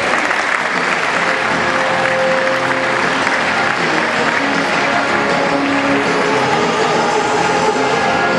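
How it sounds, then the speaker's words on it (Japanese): Loud, sustained applause from a large crowd in an arena as wrestlers enter for a Greco-Roman 55 kg final at a national wrestling championship, a steady wash of clapping from start to finish. "盛大な拍手でお迎えください。"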